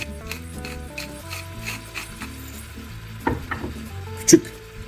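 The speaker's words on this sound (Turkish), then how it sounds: "Karabiber çekiyorum." Black pepper is ground into a pumpkin and milk soup, giving brief rough, gritty grinding bursts near the end, close and moderately loud over soft background music.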